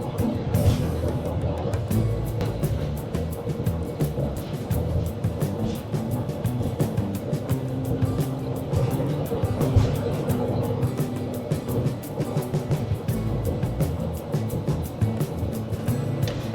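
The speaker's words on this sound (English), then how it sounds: "Yeah, it's nice to have a cottage along here, but you do have to listen to all the road noise." Steady low rumble of light Monday-morning traffic on a lakeside road by Green Bay, Lake Michigan, a continuous roadway drone with no pauses, moderately loud and close, no voices.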